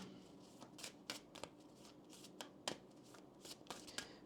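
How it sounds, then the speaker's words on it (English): Oracle cards are shuffled by hand in a series of soft riffling bursts and slaps, close and quiet, with irregular pauses between the shuffles. "We will start off by pulling some oracle cards for you here"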